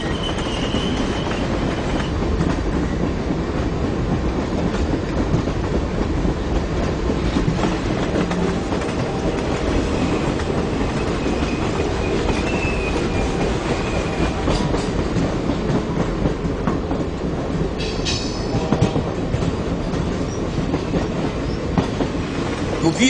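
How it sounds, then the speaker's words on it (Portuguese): A mountain railway train owned by the railway company rolls past steadily and loudly, with continuous clickety-clack from the wheels and a brief high squeal near the end. "Dia de sábado vinha o trem da serra, da propriedade da companhia"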